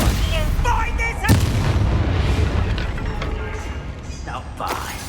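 A Confringo blasting spell goes off in Hogwarts Legacy, a sharp booming burst near the start over a dense, continuous battle din, with further muffled impacts and a busy game soundtrack throughout.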